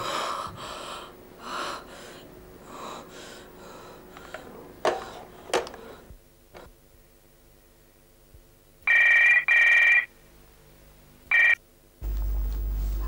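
A telephone rings in short electronic bursts, two close together and then a third after a pause, following soft breathing and gasps in a quiet indoor scene.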